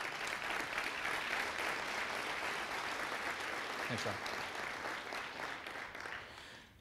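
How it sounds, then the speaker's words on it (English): Audience applause for Rob Adams at a Texas Venture Labs address, continuous dense clapping throughout that tapers slightly toward the end, with a brief spoken thanks partway through. "Rob, could you please stand and let us give you a round of applause?"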